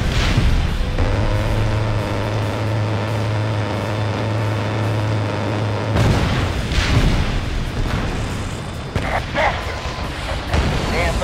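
In the Ace Combat Assault Horizon Enhanced Edition Siege mission, flown in the ASF-X Shinden II, destroyed enemy targets burst with deep booms and crackling blasts over a constant jet drone, several hits coming in quick succession.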